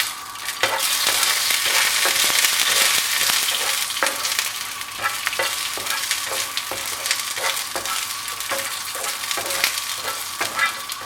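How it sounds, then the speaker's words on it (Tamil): Dried red chillies and green chillies frying on medium heat in a pan for beetroot vadai, a steady close sizzle with repeated sharp scrapes of stirring throughout, no voices. "மீடியம் ஹீட்டில் வச்சு இது நல்லா வறுத்துக்கோங்க"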